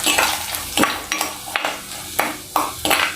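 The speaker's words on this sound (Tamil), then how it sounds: "இப்போது வெங்காயம் நல்லா பொன்னிறமாக ஆரம்பிச்சிருச்சு" Chopped small shallots frying in oil in a pan for a dry fish curry, with repeated sharp scraping stir strokes over a steady background sizzle, close and fairly loud.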